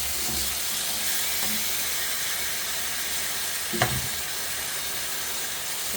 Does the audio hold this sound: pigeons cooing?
no